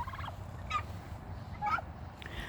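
Midget White turkeys, a rare heritage breed, gobbling in three separate bursts over a steady low background rumble, with no talk.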